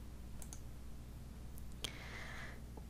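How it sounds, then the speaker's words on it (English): A single computer mouse click applies search filters at a desk, one sharp tick followed by a brief high chime, faint over a steady low hum. "and I'm going to click apply."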